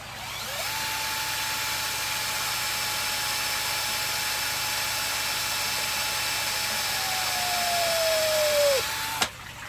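A power drill spins at a steady high whine while cutting a plug for an aquarium filter, holding pitch for several seconds before sagging lower as it bites through, then stopping with a brief clunk.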